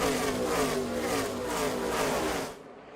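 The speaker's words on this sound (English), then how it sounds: "Look at Ty, how far he drove that car into the corner on the outside" NASCAR Xfinity Series race car at the Tennessee Lottery 250, driven deep into a corner on the outside: a loud, continuous engine roar close by that holds steady, then drops away sharply near the end.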